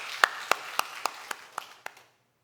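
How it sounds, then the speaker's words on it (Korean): Rhythmic clapping from a church congregation, about eight sharp, evenly spaced claps that gradually fade, then silence. "우리 주님께 영광의 박수 올려드리겠습니다."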